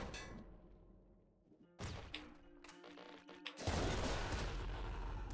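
A swarm bomb weapon fires in the game Nuclear Throne, giving a burst of loud, crunchy impacts and thuds over a few seconds with electronic game music beneath.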